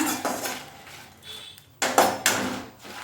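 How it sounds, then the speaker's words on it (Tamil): Dried red chilies dry-roasted without oil in a kadai for idli sambar powder, a spatula scraping and clattering against the pan in uneven bursts, with louder knocks near the end. "இப்போ வரமிளகாய் சேர்த்துக்கிறேன். நல்லா வறுத்துக்கோங்க."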